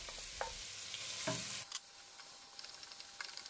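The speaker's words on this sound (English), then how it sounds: "In a hot pan, add 2 tablespoons of sunflower oil, add the onion and mix well for a few minutes." Onion fries in two tablespoons of hot sunflower oil in a pan and is stirred, with a strong sizzle and spatula scrapes for the first part before it drops to a quieter, softer fry.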